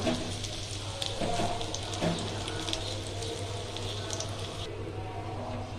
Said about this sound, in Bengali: রসুনটা একটু লাল করে ভেজে নেব।